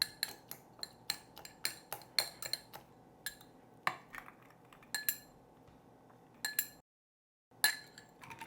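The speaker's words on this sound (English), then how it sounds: "I'm gonna just kind of crush them with a fork. This is called muddling." A fork clinks repeatedly against a glass while blueberries are crushed for a summer cocktail, giving close, sharp metallic taps in an irregular rhythm that pause briefly before resuming.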